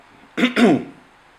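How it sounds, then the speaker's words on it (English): A lecturer gives two quick, close coughs in a row, short and throaty, with a faint trace of voice fading after them. "Excuse, I've still got a little cough"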